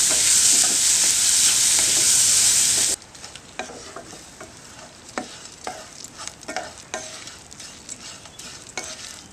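Ginger and finely chopped onion sauté in a pan for a South Indian sambar masala: a loud, steady sizzle at first, then softer frying with repeated scrapes and clinks of a stirring spoon.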